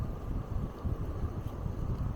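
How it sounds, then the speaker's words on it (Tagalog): Steady wind buffeting the microphone during an e-bike ride along Wilson Avenue in Toronto, a continuous low rumbling roar that stays loud and unbroken throughout with no talking. "Diba mafe-feel nyo ang lakas ng hangin?"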